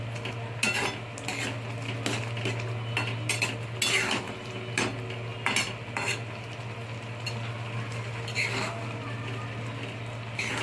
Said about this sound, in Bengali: গরম মশলাটা দিয়ে একটু ভালো করে নেড়ে চেড়ে মিক্স করে দেবো গরম মশলাটাকে